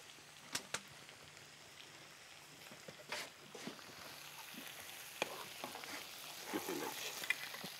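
Onion, garlic and mushroom fry in a pan with a soft, steady sizzle. Scattered pops and stirring clicks sit on top, growing slightly busier toward the end, heard fairly close and quiet.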